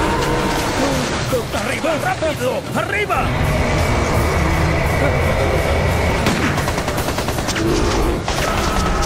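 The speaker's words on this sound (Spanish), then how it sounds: "¡Silencio! Se escuchan disparos." Sharp bursts of gunfire crackle nearby against a constant noisy background, with people shouting urgently over the shots.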